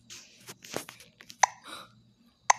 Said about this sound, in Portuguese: É hora de dar uma mordida.